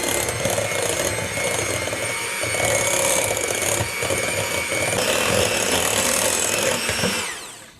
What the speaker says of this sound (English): Now we mix again.